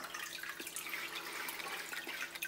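Water pours from two outlet pipes onto the surface of a large Malawi biotope aquarium of over 1000 litres, a faint, continuous splashing and trickling with no voices.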